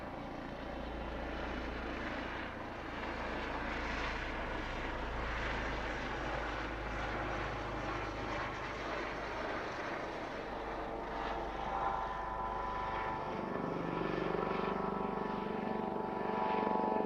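A propeller aircraft flying low overhead at a woodyard, its engine a loud continuous drone that holds steady throughout, then shifts in tone as it comes down to land nearby.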